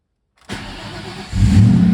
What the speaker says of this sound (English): Cold start. Hasn't been turned on for quite a few months.